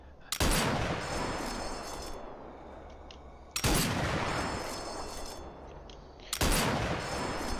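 Three loud, sharp shots from target practice in the Sniper Elite VR game ring out a few seconds apart, each followed by a long, booming echo that fades slowly.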